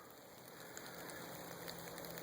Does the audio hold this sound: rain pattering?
yes